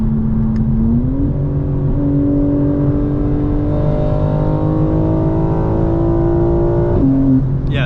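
A tuned 2025 BMW M4 Competition xDrive revs loud and close, its engine note climbing steadily through the gears with distinct shift breaks near the start and end.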